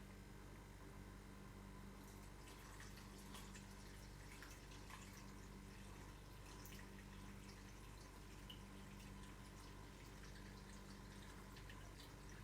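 Water poured into a bowl for sourdough dough, a steady low splashing trickle with faint drips, heard alone at moderate loudness throughout.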